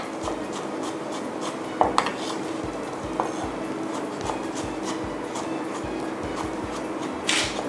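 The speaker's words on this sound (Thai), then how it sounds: "นำแห้วนะคะ มาหั่นให้เป็นชิ้นเต๋าเล็ก ๆนะคะ" Quiet, regular knife taps on a cutting board as water chestnuts are diced into small cubes, with a few sharper clinks.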